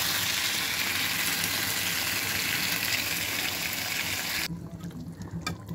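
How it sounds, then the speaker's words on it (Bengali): Water is poured into a pan of fried pointed gourd, producing a loud, steady rushing sizzle that cuts off sharply, leaving quieter crackles and clinks at the end. "এখন কষানোর পরে একটু পানি দিব হালকা।"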